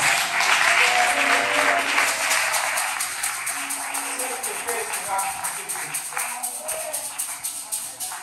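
Congregation clapping during a church service, a loud burst of dense applause that gradually thins into lighter, more rhythmic claps, with voices murmuring underneath.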